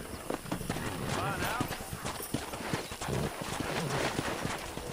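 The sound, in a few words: horses clip-clopping and neighing in Red Dead Redemption video game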